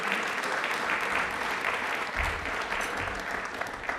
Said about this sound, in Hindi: तालियां एक बार वापस से रुचि के लिए जोरदार होनी चाहिए प्लीज